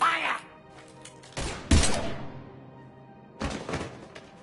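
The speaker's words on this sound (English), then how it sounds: "Now open fire!" Gunfire in Mass Effect 3 breaks out in heavy thudding bursts, one sharp volley in the middle and another near the end, with voices talking around it.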